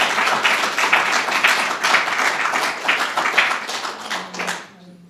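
Audience applause at an arts, poetry and music celebration, a steady wash of many hands clapping close and loud for nearly five seconds, then fading out with a faint low hum at the end.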